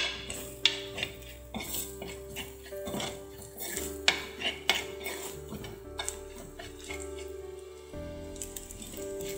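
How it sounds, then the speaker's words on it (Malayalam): Prawn curry masala sautéed in a pan over a high flame, with repeated clinks and scrapes of a spoon against the pan over a faint sizzle and no talking. "പച്ചമണം മാറണ വരെ ഒന്ന് വഴറ്റി കൊടുക്കാം."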